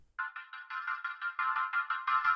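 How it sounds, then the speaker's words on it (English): Bright, bell-like synth notes ripple quickly up and down in a steady repeating pattern, soft and shimmering, with faint low thumps underneath. "what I love to do are these dreamy ARP thingies in Serum"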